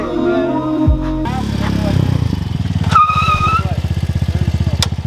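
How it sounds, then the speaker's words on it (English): Two newly bought motorcycles ride past close by on a street, their engines loud and revving, then settling into a fast, pulsing idle chug, with voices talking over the noise. "Vic and Kyle are actually riding them down the street"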